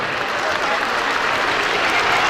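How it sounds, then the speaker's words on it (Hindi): A convention audience at the Silver Jubilee Convention Center in Islamabad gives a brief burst of loud, dense applause lasting a couple of seconds. "तालियां होनी चाहिए मैडम।"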